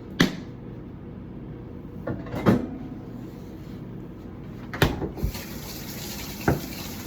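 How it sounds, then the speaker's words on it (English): Tap water runs into a container holding seasoned meat set to soak, a steady soft wash broken by a few sharp clunks and knocks of handling nearby. "I'm gonna add some water."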